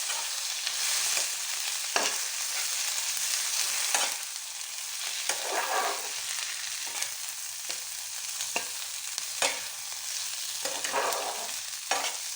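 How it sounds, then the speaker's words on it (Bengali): Bottle gourd peel frying in fish oil in a pan, with a continuous close sizzle broken by repeated scraping strokes of a spatula stirring at an unhurried pace, and no voices. "মাছের তেলটা দিয়ে দিলাম, দিয়ে আবার নেড়ে চেড়ে নিচ্ছি"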